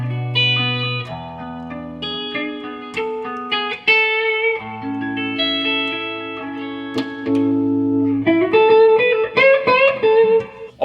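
A vintage Les Paul Black Beauty in an out-of-phase, phaser-like setting through a Marshall DSL amp plays a close, loud phrase of picked notes and sustained chords that ring out between strokes.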